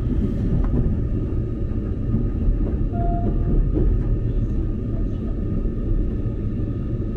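Nishi-Kyushu Shinkansen train at Kohoku Station heard as a steady, loud low rumble throughout, with a brief faint tone partway through and no talking.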